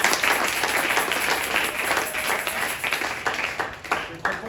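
Congregation at a church service applauding and cheering, a dense, steady wash of many hands clapping with raised voices, loud and sustained throughout.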